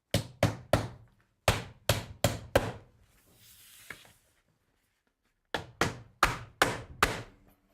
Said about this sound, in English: Pull the drip edge down about a ½ inch away from that line, and that creates a nice gap between the kicker and the fascia board. Now I just nail it in place.